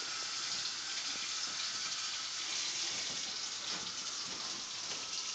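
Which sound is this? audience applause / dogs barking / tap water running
tap water running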